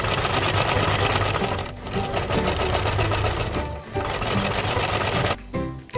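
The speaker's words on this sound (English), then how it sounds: "Let's place the Play-Doh inside the washing machine." A toy washing machine with Play-Doh inside runs steadily and loudly, its dense, busy mechanical whirring holding for about six seconds with brief dips near the two- and four-second marks and near the end.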